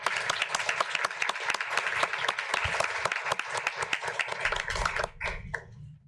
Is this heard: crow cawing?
no